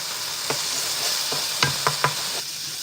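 Minced garlic hitting a hot pan of oil while cooking Rasta pasta: a steady, close frying hiss carries through, punctuated by a few sharp utensil taps and scrapes near the end.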